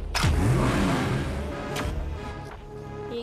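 Race start in the Asphalt 8 car racing video game, with a loud engine rev and whoosh up front, then a sustained mid-pitched motor drone and light game effects.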